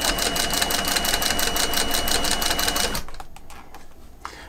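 A cylinder arm sewing machine stitches a leather bag in a fast, loud mechanical rattle for three seconds, then stops, leaving a few faint clicks and taps.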